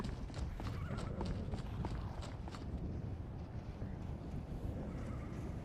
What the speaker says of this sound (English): So, we've got the horse.